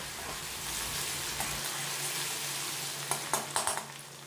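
Ginger and green chilli paste sizzles in hot oil while a spatula stirs it, a steady close frying hiss followed by a few sharp metallic scrapes against the pan toward the end.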